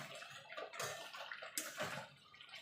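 Water splashes and pours into a bowl being rinsed in a kitchen while cooking Gondhoraj lemon chicken, a close, brief gurgling wash that rises and falls.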